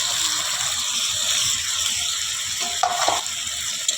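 Ground spices with ginger-garlic paste frying in hot oil for a spicy katla fish curry, giving a steady close sizzle throughout, with a few scraping stirs near the end.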